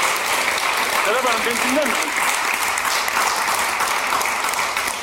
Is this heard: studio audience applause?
yes